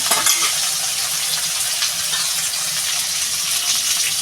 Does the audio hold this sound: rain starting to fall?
no